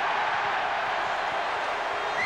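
A rugby league stadium crowd of about 40,000 at the 2003 Challenge Cup Final, Bradford Bulls against Leeds Rhinos, reacts to a ruling with a dense, steady roar that mixes cheers and boos, with no single voice standing out.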